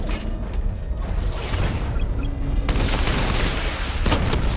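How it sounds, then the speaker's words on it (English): A missile barrage in the Batman: Arkham Knight video game, a dense continuous rumble of launches and blasts that builds and grows louder partway through, with no talk over it. "Missile barrage level 2 ready."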